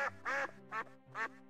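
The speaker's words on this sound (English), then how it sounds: "Noisy ducks." Cartoon ducks quack in the adventure video game Simon the Sorcerer, four distinct nasal quacks in quick uneven succession, close and clear against a quiet background.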